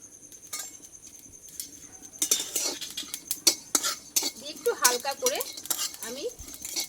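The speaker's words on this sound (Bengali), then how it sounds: "এই জিরেটা আমি আগে একটু হালকা করে ভেজে নেব দেখো এখানে কিন্তু কড়াটা খুব গরম হয়ে গেছে" Whole cumin seeds fry in a very hot wok, giving sharp crackles and pops alongside metallic clinks of a spoon stirring against the pan, getting busier after a quiet start, with a voice briefly audible.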